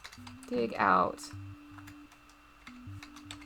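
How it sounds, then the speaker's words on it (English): Keys clatter on a work computer keyboard in a quick burst of typing, close and fairly quiet, with a few scattered taps after it and a steady background tone. "you can tell I've done nothing but type on my work keyboard"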